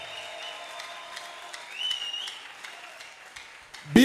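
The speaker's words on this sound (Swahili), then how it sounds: "Makofi na vigelegele kwa ajili ya Yesu." A church congregation applauds for Jesus during a sermon, soft scattered clapping and crowd noise with a brief rising high-pitched cry that could be ululation, ending in a sudden loud knock.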